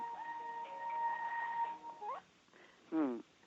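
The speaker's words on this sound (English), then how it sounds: "Nice ringtone. Better than mine." A phone ringtone plays faintly over a call, a steady electronic melodic tone holding for a second or two, then a brief rising chirp and a short warbling burst, quiet and somewhat distant.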